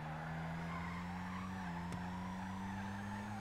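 A muscle car with its back removed drifts in GTA 5, tires squealing and skidding over a steady low engine hum, one sharp knock midway.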